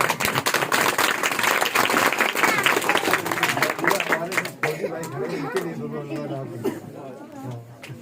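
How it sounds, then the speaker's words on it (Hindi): Loud crowd applause at a gathering, dense clapping mixed with chatter that thins after a few seconds as voices carry on over the fading claps. "एक बार इनके लिए जोरदार ताली बजाइए"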